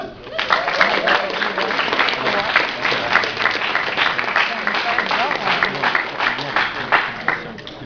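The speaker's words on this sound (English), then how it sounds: "Round of applause for them." An audience at the Weston Super Sonic 2017 event claps steadily in a dense, sustained burst of applause, with voices and cheering mixed into the crowd noise.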